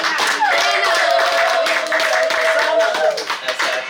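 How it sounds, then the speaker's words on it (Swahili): A church congregation claps together to welcome the preacher, with dense, steady applause filling the room for about three seconds over a sustained tone, before it thins out at the end. "Tumkaribishe na furaha na kwa makofi."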